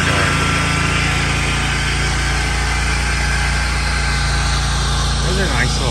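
Leaf blower blasting fertilizer and seed off a back porch during yard work, a loud continuous engine roar that stays close and constant from start to finish.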